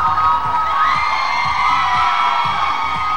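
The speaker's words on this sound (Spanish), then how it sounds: "Siguen los gritos dentro del estudio, señores del jurado." A television talent show studio audience in Ecuador shouts and cheers nonstop, a loud dense crowd roar with whoops and yells filling the whole moment.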